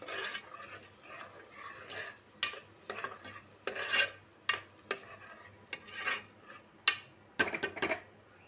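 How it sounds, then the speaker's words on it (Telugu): A spoon stirs chili powder into thick egg curry gravy in a pan, giving soft irregular scraping strokes with a few sharper clinks of utensil against metal, close and fairly quiet with no talking. "బాగా మిక్స్ చేయాలి."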